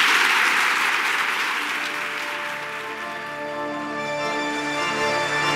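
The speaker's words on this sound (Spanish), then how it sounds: "Me parece que merece un aplauso." A congregation honoring a 50th ordination anniversary gives a loud, sustained round of applause that gradually thins as tonal, organ-like music rises beneath it.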